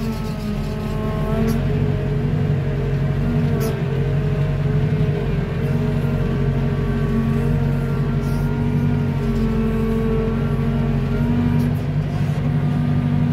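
A JCB boom loader's diesel engine runs steadily and loudly while the machine maneuvers, producing a constant droning hum with a slight rise in intensity and no talking.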